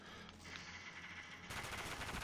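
Rapid automatic gunfire in a shooter video game team deathmatch, a quiet burst of repeated shots that grows louder and denser toward the end.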